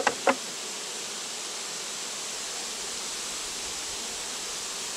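Honey bees hum steadily around a nucleus colony at the hive, a constant, even buzz that fills the whole stretch after a couple of sharp clicks at the very start.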